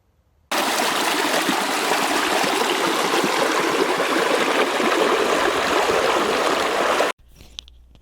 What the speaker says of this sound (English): This is Wolf Creek that runs across the property on this 30 acres